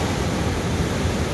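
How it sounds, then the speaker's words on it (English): Steady broadband rush of wind blowing in directly off the ocean at about 7 mph, blending with a constant surf-like roar, close to the microphone and unbroken throughout. "7 mile an hour wind coming directly off the ocean from"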